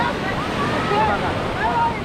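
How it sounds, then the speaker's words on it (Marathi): Tall sea waves break and surge up a beach, a steady roaring wash with wind buffeting the microphone and a voice speaking over it. "उंच लाटा बघा कसे आहेत"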